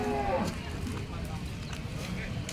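A black cow at a livestock market in Indapur, Pune district, gives a short, near moo at the start, followed by a steady murmur of market crowd noise and people talking.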